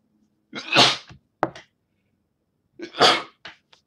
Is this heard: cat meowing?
no